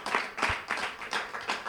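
A church congregation claps in a quiet, rhythmic pattern, soft repeated hand claps at a steady pace, heard faintly from a distance.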